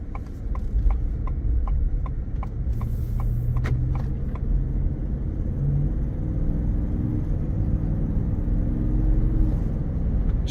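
A 2024 Ford F-150 XL pickup with 19,633 miles rolls along on a test drive, a steady low engine and road rumble filling the cabin throughout, with faint rhythmic ticking from the turn signal early on and no talking.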